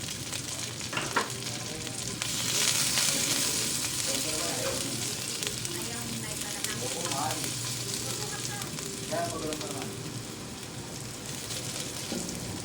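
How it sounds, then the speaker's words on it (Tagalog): Ginger, garlic and onion sauté in a little oil for tinola, producing a continuous close sizzle with intermittent stirring clinks and scrapes. "Ayan guys, iisa lang natin yung aromatic ingredients sa kaunting mantika"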